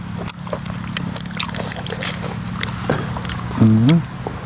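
Someone bites into and chews a large steamed rat dipped in seafood sauce, producing close, moist crunching and chewing noises with a brief voiced murmur near the end.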